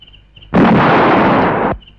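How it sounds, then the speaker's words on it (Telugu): A loud, sudden explosion as an amplifier blows up in a Telugu comedy scene: a single dense blast that starts abruptly, roars steadily for just over a second, then cuts off, heard alone with no talk. "యాంప్లిఫైర్ పేలినట్టుందో"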